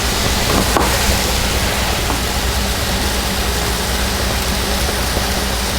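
A pot of water for macaroni at a full rolling boil gives off a steady, close rushing and bubbling hiss that holds at an even level throughout.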